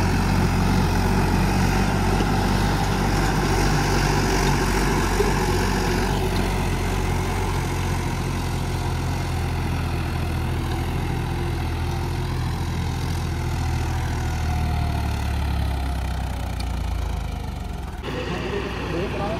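A John Deere 5075E tractor, its pump modified, runs in first gear, its diesel engine a steady low rumble close by. Voices talk over it throughout, and the engine note dips briefly near the end.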